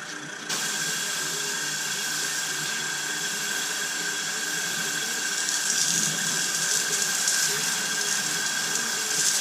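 Water sprays in a steady, loud, hissing rinse over a 2016 Tesla Model S P100D during a detail wash, continuous and close with slight swells in intensity.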